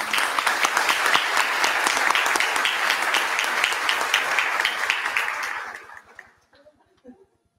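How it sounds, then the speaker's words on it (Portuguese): An audience at a military law symposium gives a full round of applause after a lecture, dense and sustained clapping that fades out, followed by faint voices. "Mais uma salva de palmas, por favor."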